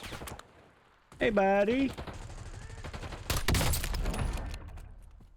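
Gunfire in an online shooter video game: a few loud, sharp bursts of shots ring out close by, and a player speaks briefly in between.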